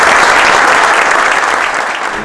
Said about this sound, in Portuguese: uma salva de palmas para vocês e para o vosso treinador.